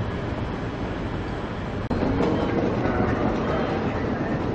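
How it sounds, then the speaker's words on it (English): Queensland Rail tilt train pulling into a station platform in Rockhampton, a steady broadband rumble with a brief dip then continuing loud rolling noise. "The tilt train is coming into Platform 10, city of Rockhampton."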